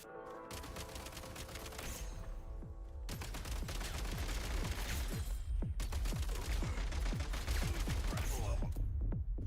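Assault rifle fire in a video game, long dense bursts of rapid shots that go on nearly throughout with brief pauses, loud and close, and a voice may be faintly audible underneath.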